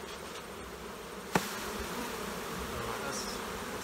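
Honeybees swarm around an open hive during an autumn colony split, a steady close hum with one sharp knock partway through.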